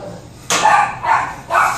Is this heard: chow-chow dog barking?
yes